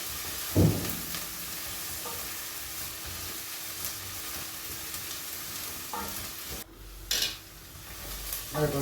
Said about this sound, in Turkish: Soğan da solduktan sonra salçasını katıyoruz arkadaşlar.